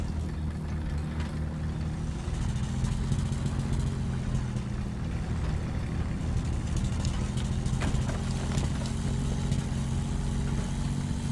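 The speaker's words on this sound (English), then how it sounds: "It sounds like the engine is definitely struggling here." A struggling vehicle engine in a video game, a fairly quiet, steady mid-pitched drone that labours on without change while crawling along slowly.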